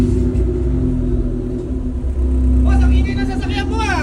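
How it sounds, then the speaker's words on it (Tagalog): A loud car engine and exhaust with a deep, steady low rumble and a brief swell near the end, with a voice talking over it. "Hindi nakakatuwa yung tunog ng tambucho mo"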